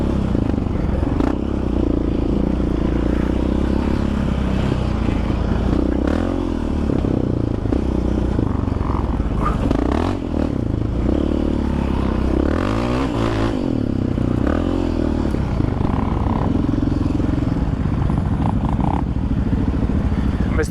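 A Yamaha Raptor 700R ATV and a Kawasaki dirt bike ride off-road through dust, mud and rocks at the Badlands, with steady loud engine drone, revving and rattling clatter throughout, continuous and close.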